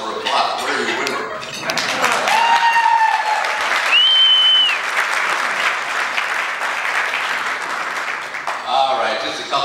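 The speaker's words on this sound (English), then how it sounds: "it says here that I should pause for applause" Audience at a Rotary district leadership luncheon claps steadily through a keynote pause, a full round of applause from many hands, with whoops and voices rising over it.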